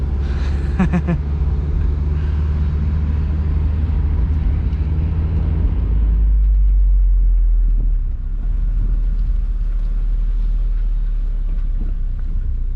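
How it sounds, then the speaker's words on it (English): A 2007 Honda S2000 engine drones at a low, steady rumble while driving, mixed with wind noise and dropping to a deeper tone partway through, with no talk. "Such a wonderful engine too. It's revvy, it's responsive."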